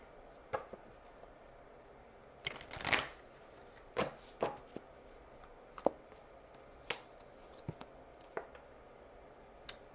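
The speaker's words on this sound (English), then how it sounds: "I want to get a card for you from the Archetypes deck." An Archetypes oracle card deck is shuffled up close, with quick papery riffles and a longer burst of flicking cards, then scattered soft taps and snaps as cards are handled in a quiet room.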